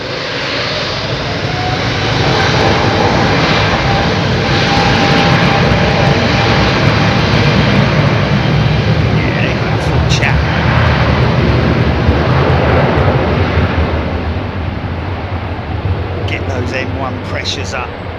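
A Rolls-Royce Trent 7000–powered airliner at London Heathrow spools up, a loud sustained jet roar with a faint rising whine, steady in level, with someone talking over it.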